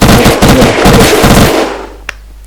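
Rapid automatic gunfire in the video game Unturned rattles loudly and close for about a second and a half, then cuts off, leaving one faint later shot.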